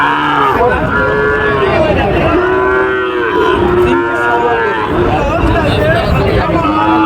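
Sahiwal cattle lowing at a crowded cattle market, with several drawn-out moos rising and falling one after another over a steady background of people talking.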